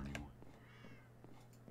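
A cat in the video game Minecraft gives a soft, drawn-out meow or two over a steady low hum of game ambience, with faint voice sounds in the background.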